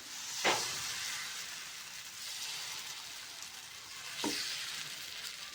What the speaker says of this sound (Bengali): ফ্রাই প্যানটা গরম হয়ে গেছে এবার আমি এক হাতা দিয়ে দেব